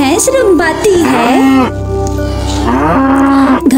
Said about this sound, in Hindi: गाय भैंस रंबाती है,